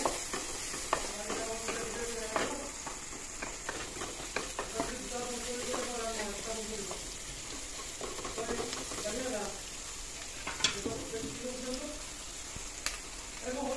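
Salt, turmeric and chili powder are stirred in a pan for an Assamese fish curry with dhekia greens, giving steady scraping and a soft sizzle, with clear rhythmic strokes throughout and a few sharp clinks, under a voice talking.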